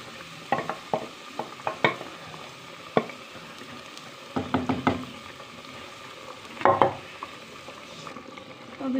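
Potatoes and spinach being stirred and roasted in a pan, with repeated scraping strokes of a spoon against the pan over a faint sizzle, in irregular bursts.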